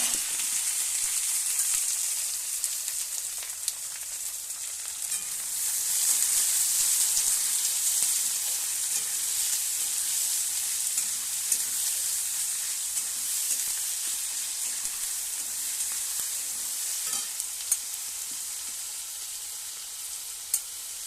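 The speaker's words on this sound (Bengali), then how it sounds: "আজকে আমি এই ভেজে নিচ্ছি" Sliced onions frying in hot oil in a pan, a loud continuous sizzle and hiss close by, with brief scraping stirs now and then and no talking.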